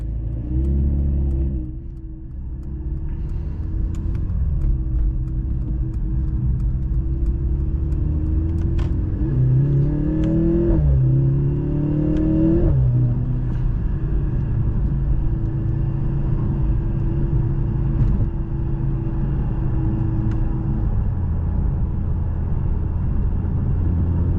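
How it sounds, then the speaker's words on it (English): Steady low engine drone from inside a 2023 Mercedes-AMG C 43 hybrid, rising in pitch for a few seconds as it accelerates, then settling back to an even hum. "the engine, with it being a hybrid, has a really unique sound to it"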